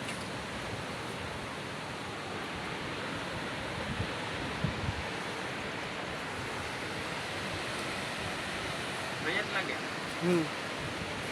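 Ocean waves wash steadily onto the seashore at Jafrabad, a continuous broad roar of surf with wind, fairly loud and unbroken, with faint voices and brief knocks near the end.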